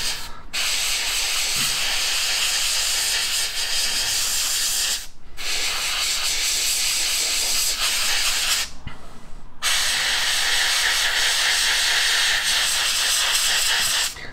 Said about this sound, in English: you can't beat Tamiya and Mr. Hobby colour paints. They spray really, really well.